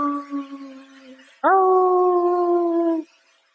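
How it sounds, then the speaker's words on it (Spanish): A howl rings out in a forest: a fainter wavering tone first, then one loud, sustained, steady howl lasting about a second and a half before it stops abruptly. "Imagínate que vas con tu madre en el bosque y empiezas a oír los aullidos."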